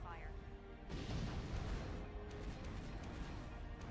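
Long-range cannon fire hitting the player's mech in Armored Core 4, a heavy booming impact followed by rumbling crashes, fairly faint in the mix with a voice talking over it.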